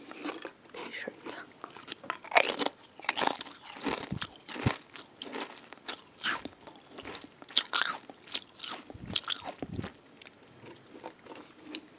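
Close, crisp crunching and biting of Pringles Nacho cheese chips, with irregular bursts of chewing continuing throughout under soft, quiet background sound.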